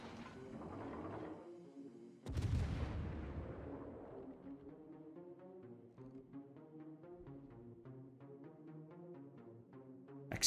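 Guns of the Italian cruiser Trento firing in World of Warships: a heavy booming salvo followed by a long decaying rumble, with a rapid ticking mechanical pattern fading out after.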